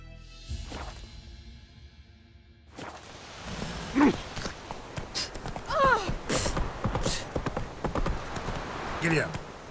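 Roach the horse's hooves clip-clop in the Witcher 3 video game, with repeated close hoof strikes and occasional whinnies while someone speaks at intervals.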